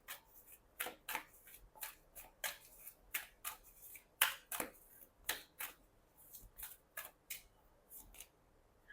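Tarot cards being shuffled and handled in a quiet room, giving a run of crisp, close snapping flicks in irregular bursts, with no voices.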